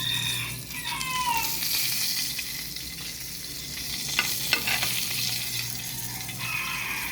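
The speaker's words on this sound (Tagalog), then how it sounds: "piprito tayong tinapa" Steady hot-oil sizzling and crackling of smoked fish frying in a pan, close and continuous, with a few brief clinks partway through.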